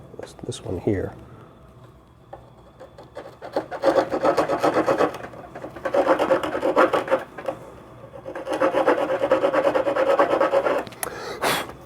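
A riffler rasp files pine wood in three bursts of steady back-and-forth rasping close up, with someone speaking briefly at the start and quiet talk between strokes.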